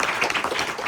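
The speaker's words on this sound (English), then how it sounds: "you can clap for them" Brief burst of audience clapping for volunteers at a historic hall event, steady and moderately loud across the full second.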